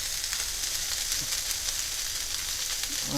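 Corn fries in a skillet with a steady, even sizzle and crackle, close and moderately quiet, with faint stirring and no voices.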